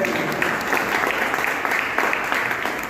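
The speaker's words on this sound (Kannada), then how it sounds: "ನಿಜವಾಗಲೂ ಅವರಿಗೆ ಎಲ್ಲರೂ ಒಂದು ಚಪ್ಪಾಳೆಯನ್ನು" An audience at a community calendar launch event in Rabkavi town claps steadily, a dense, continuous round of applause heard close and loud throughout.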